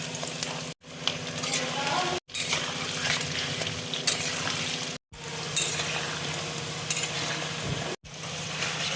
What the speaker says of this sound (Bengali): এবার আমি আলুগুলো তেলের মধ্যে দিয়ে দেব।